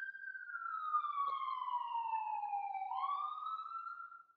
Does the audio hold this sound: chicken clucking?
no